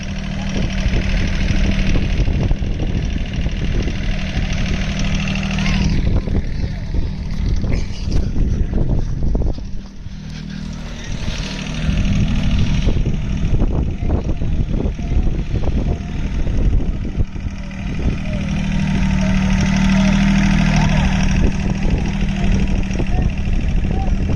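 A diesel engine idles loudly in a Cushman Truckster utility vehicle, a continuous knocking rumble that dips briefly midway while people talk over it.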